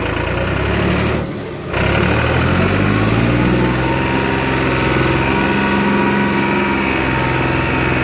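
A tractor engine runs nearby with a steady, loud diesel chug, briefly dropping off after a second before settling back into a constant idle.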